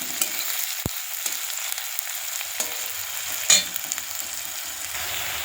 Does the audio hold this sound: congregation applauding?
no